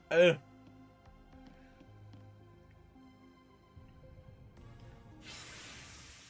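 A full revival spray item is used in the video game Digimon Story: Time Stranger, a loud hissing spray burst that starts abruptly near the end and holds for about a second over soft game music, after a brief sharp sound at the start.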